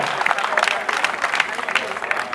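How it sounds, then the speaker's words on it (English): Audience applause at a birthday celebration concert for a reggae singer, a dense, lively crowd clapping with sharp individual claps standing out and a voice faintly in the mix. "Give him a round of applause."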